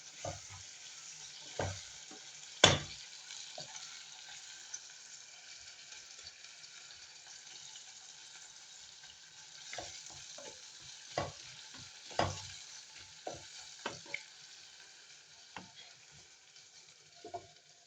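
Black cumin (nigella) seeds fry quietly in oil, a faint low sizzle broken by scattered stirring scrapes and knocks of a spoon against the pan.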